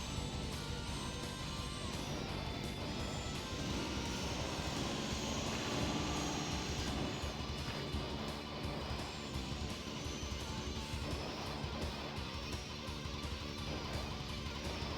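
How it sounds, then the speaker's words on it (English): Futuristic hover-racing machines in F-Zero X roar with a continuous high jet-like whine, steady and loud throughout, with occasional crashing hits mixed in. "you gotta scream over F-Zero engines, and they're probably very loud"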